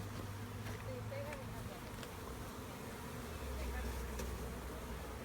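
Bees crawl and hum across a person's chest and face as a bee beard forms, a steady dense buzz running throughout with talk over it.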